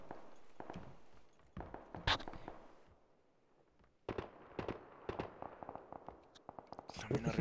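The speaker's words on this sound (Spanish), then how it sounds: "Hay tiros por este lado." Sharp gunshot cracks in the video game PUBG, scattered and irregular, some single, some in quick bursts, over faint background noise with occasional voices.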